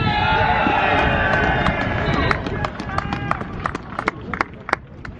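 A football crowd at a Dronfield Town match roars loudly at first, then the cheer breaks into scattered claps and shouts as it fades, heard up close within the stand.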